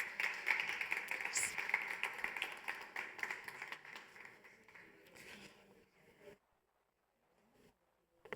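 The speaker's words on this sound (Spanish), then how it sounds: "Recibamos con un aplauso a Nazaré Rodríguez." Audience applause welcoming a speaker at a startup event in Oviedo, moderate clapping that thins and fades out over about six seconds, then near silence with a faint tap at the end.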